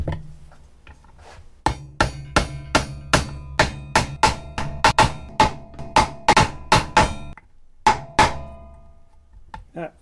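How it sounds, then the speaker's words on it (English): Hammer blows drive bridge posts into a guitar body, a run of sharp, evenly spaced knocks, close and loud, with short pauses between groups and a couple of final strikes. "I'm going to go ahead and hammer these into the body."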